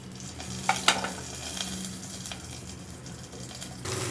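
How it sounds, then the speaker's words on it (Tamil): Mustard seeds and cumin crackle and pop in a small amount of hot oil for sambar, with a couple of sharp pops over a steady low sizzle. "கடுகு பொரிஞ்சிருச்சு"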